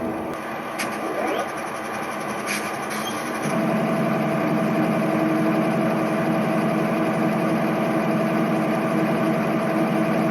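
A Santa Fe diesel locomotive runs at a rail yard near Galesburg, a steady low engine drone that grows louder and fuller partway through, with faint distant clanks and thin squeals above it.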